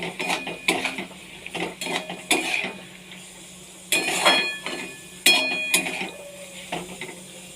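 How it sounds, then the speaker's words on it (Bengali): Spatula scraping and clinking in a pan as fried paneer is stirred into chilli paneer sauce, a series of irregular metallic strokes at moderate loudness over a faint sizzle. "ভেজে রাখা পনির দিয়ে দিলাম, দিয়ে একটু নেড়ে নেব।"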